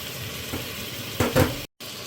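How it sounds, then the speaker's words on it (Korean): Raw kimchi stir-fries in rendered pork fat in a pot over low heat, a soft continuous sizzle with a few louder scraping stirs near the end. "이거 이제 볶아줄 겁니다."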